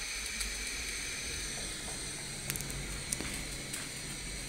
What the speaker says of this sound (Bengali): চুলাটা জ্বলিয়ে নিলাম আগুন।